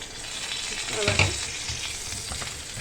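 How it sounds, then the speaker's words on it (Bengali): Potatoes fry in a pan over medium-low flame for a dry potato curry made without onion or garlic, a gentle continuous sizzle with a brief stirring clatter midway. "এই দেখো পুরো ভাজা ভাজা হয়ে গেল"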